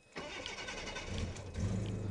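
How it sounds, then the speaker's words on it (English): A 1985 Jaguar XJ6 with a slight exhaust leak cranks and fires, catching after a brief starter whir and settling into a steady, close idle that swells slightly near the end. "I can start the car up for you as well."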